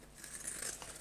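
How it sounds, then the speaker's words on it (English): Pinking shears snip around fabric corners, a faint, quick crisp cutting and crinkling burst heard up close. "we're going to get our pinking shears and go around the corners of this"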